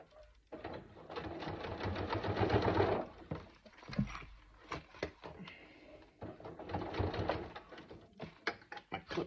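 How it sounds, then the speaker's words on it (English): A sewing machine stitches a backpack zipper panel seam, running in two steady buzzing stretches separated by pauses with clicks and handling clatter, quiet and close. "we are going to go to the machine and do our little bit of stitching"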